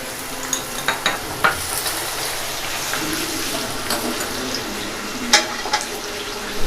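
Onions frying in a pan on low flame for chicken biryani, a steady close sizzle with scattered clinks and scrapes of stirring, no talk.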